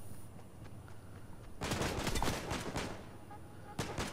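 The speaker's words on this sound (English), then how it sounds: "Where am I getting shot from?" Rapid bursts of Fortnite gunfire erupt after a quieter stretch, a dense volley of shots at moderate distance that rattles on for over a second and then trails off, with a faint background hum.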